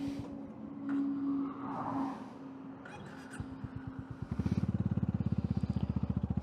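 Motorcycle engine running as the rider sets off, rising into a loud, close, steady throbbing pulse in the second half, with wind rush over the mic throughout.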